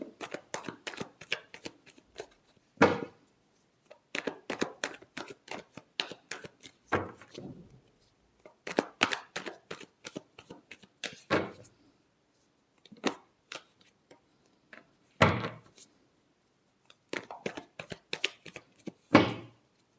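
Tarot cards being shuffled by hand, close and crisp, in quick riffling bursts separated by short pauses and sharp taps as the deck is squared, with no talking.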